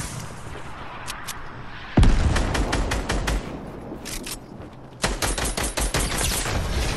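Rapid gunfire bursts from the Fortnite video game, loud and continuous with sharp onsets and dense volleys that intensify partway through and again near the end.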